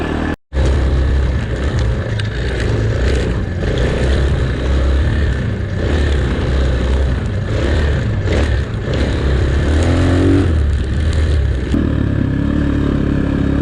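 An X-Pro Storm 250 dirt bike ridden along a sandy forest trail, its engine droning and revving continuously with clattering and wind buffeting throughout, no voices.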